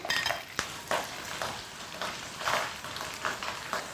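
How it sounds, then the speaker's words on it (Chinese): Pork stir-fries in a wok with a little oil, a light sizzle under repeated scraping strokes and clinks of a spatula against the metal, close and rhythmic. "锅留一丁点底油，下入做的肉。"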